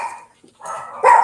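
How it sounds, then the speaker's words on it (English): A pet dog barks indoors in a couple of short, close, fairly loud bursts with a brief pause between them, with no talking over it. "My dog."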